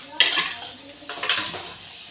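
Spices with black masala and red chilli powder being stirred and sautéed in a pan, with two short bursts of scraping and clinking utensil against metal over a soft background sizzle.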